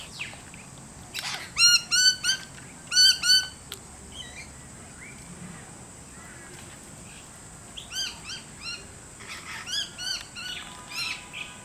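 Birds squawking and chirping in short loud bursts separated by quieter gaps, harsh repeated calls near the microphone over a faint steady background hiss.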